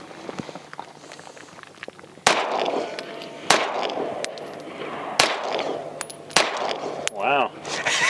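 Atlas Ares Commander 9mm pistol fired outdoors, four sharp loud shots spaced a second or so apart, the first pair 124-grain and the second 147-grain rounds, with faint movement and brief voices between.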